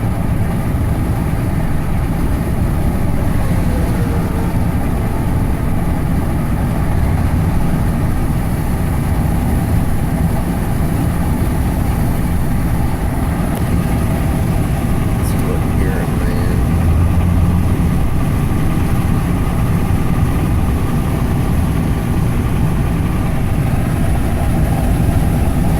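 Ram EcoDiesel truck accelerating at around half throttle while towing, heard from inside the cab as a constant loud drone of engine and road noise with no clear shift in pitch.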